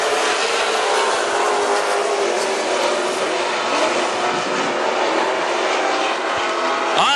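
WISSOTA Super Stock race cars on the final lap of a heat race at Princeton Speedway, a continuous loud roar of engines close by with no break.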